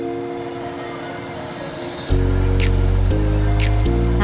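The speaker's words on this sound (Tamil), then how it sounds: "இப்போ தேங்காய் சீலை நல்லா அரைச்சிக்கலாம்." A mixer grinder grinds coconut for a mutton bone curry gravy. A steady whine plays at first, then the motor surges into a loud, continuous grinding roar about halfway through, with brief higher squeals on top.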